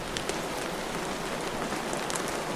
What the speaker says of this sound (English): The rain is going to be stopped by the elevator frames